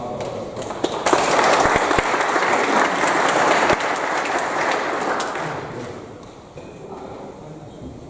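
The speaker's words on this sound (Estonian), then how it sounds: "Võime teha poliitikutele suure aplausi" Loud audience applause for politicians at an election debate, with a few sharp close claps standing out of the dense clapping, which then tapers into murmuring room noise.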